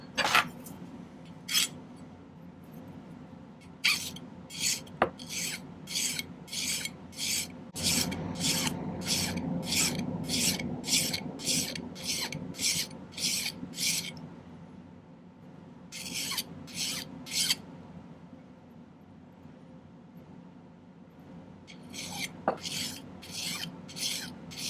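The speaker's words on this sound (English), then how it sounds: "Okay, I'm going to spend a little time filing." A hand file rasps against a silver ring band during silversmithing, in repeated rhythmic strokes in several bursts with short pauses, steady and close, with no talking.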